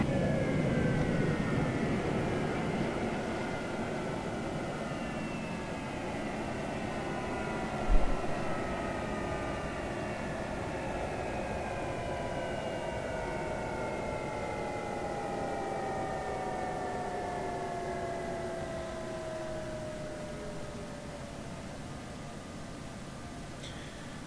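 An F-104 jet engine in a video game winding down after the throttle is cut, a whining turbine tone sliding steadily lower in pitch over about twenty seconds under a soft rushing roar, with one brief thump.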